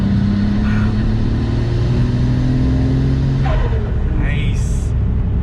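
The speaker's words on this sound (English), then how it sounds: "It revs up so quick" A 1995 Nissan Skyline R33 GT-R V-Spec engine revs under steady road rumble, with a rising pitch sweep near the end; someone talks over the driving noise.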